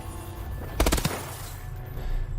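Short burst of automatic fire from an ARX-160 rifle on a firing range in Call of Duty: Advanced Warfare, a quick rapid string of loud shots around the one-second mark over steady game ambience.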